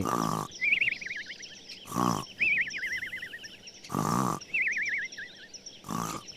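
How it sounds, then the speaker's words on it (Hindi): Cartoon wolf snoring under a big tree: four loud rasping snore inhales spaced about two seconds apart, each followed by a quieter wavering whistle on the exhale. "बच्चों को ढूंढ रही बकरी ने उसके खर्राटे सुने"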